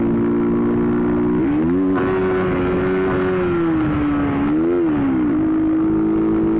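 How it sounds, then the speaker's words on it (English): Motorcycle ridden fast on a public road, a steady loud engine drone with gentle rises and falls in pitch as the rider shifts and holds speed, with wind rush underneath. "I'm on a bike and I'm going fast"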